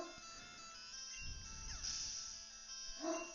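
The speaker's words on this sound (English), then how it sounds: "My dog is barking a lot, but he just went potty, so he's fine." A pet dog barks and whimpers somewhere in a room, with a low rumbling burst in the middle and a short, clearer yelp near the end, all fairly faint and heard over a steady electronic hum.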